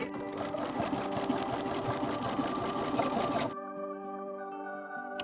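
A sewing machine runs steadily and close by, laying a line of gathering stitches 1/8 inch from the fabric edge for a Simplicity S3190 garment, then stops abruptly, leaving a faint lingering hum.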